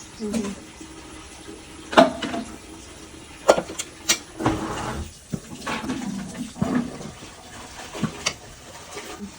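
Water poured at home while making wheat flour payasam, a soft splashing, trickling pour with a few sharper splashes, heard close by alongside low background voices.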